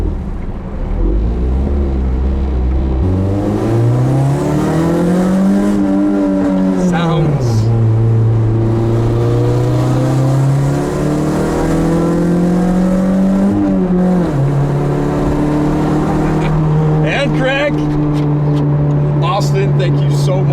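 A 1986 Toyota MR2 engine pulls hard in first gear, its pitch climbing through a rev sweep, then dropping and rising again through later gears, loud and close throughout.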